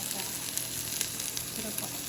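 Shrimp cooking on a stove over medium heat produce a steady, close frying sizzle with fine crackles throughout and no talking.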